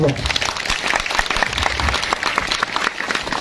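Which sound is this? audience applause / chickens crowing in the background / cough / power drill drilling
audience applause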